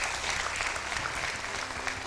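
A dense, even burst of audience clapping fills the space throughout, a steady wash of many hands with no pauses.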